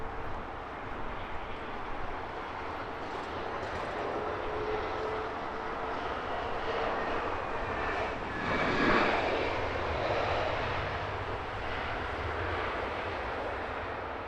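An airplane taxis at Heathrow Airport, a continuous broad jet engine roar that holds steady and swells briefly partway through, heard at a moderate distance without voices.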